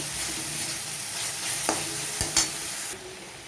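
Bottle gourd frying with tomato and spices in a pan, a steady sizzle with a few sharp stirring scrapes near the end before it quiets.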